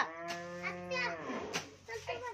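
A cow gives a long, drawn-out moo nearby, followed by fainter lowing and soft background sounds.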